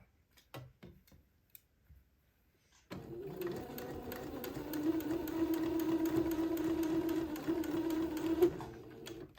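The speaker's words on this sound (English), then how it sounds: "I'm going to sew the sleeve in along the edge of the entredeux, being careful not to pierce the entredeux ladder." A sewing machine stitching a baby daydress sleeve in along the edge of entredeux, starting after a few quiet handling clicks and then running in a steady, close, rhythmic hum for several seconds before halting.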